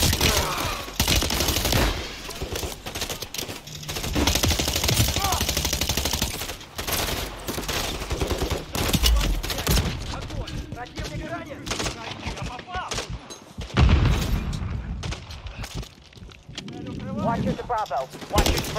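Heavy automatic gunfire in the Modern Warfare 3 campaign, long sustained bursts and scattered shots, loud and close, with game voices talking at intervals and quieter stretches between volleys.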